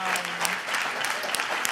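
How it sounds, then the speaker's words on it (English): Audience applause for nurses and essential workers at a summit on Covid-19 equity, a steady dense clapping filling the whole stretch at moderate loudness with no voices over it. "just clap for all the nurses,"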